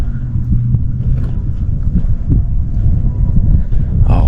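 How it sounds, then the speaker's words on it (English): Heavy wind buffets a microphone outdoors, a constant loud low roar with gusting swells throughout and no break, drowning the scene in rumble. "oh wow, the wind keeps going."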